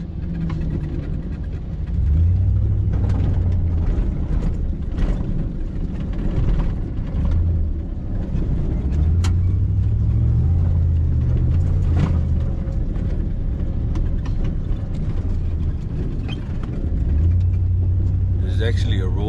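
A Chevrolet Silverado pickup truck drives on a road near El Mirage Dry Lake, with a continuous low engine rumble and road noise heard from inside the cab while people talk over it.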